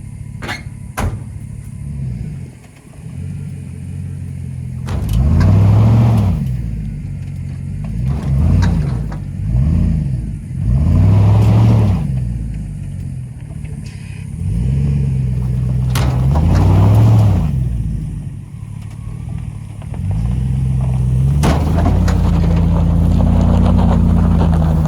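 A 1969 C30 truck is towed out of an oil field, giving a loud, continuous engine drone that swells and eases in repeated pulls, with wind rumble across the microphone and occasional knocks.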